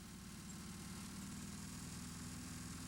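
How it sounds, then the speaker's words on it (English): A 1998 rally car coasts on a road stage with its turbocharged engine still running, giving a faint, steady low hum with no talking. "The car is really just coasting. The engine's running."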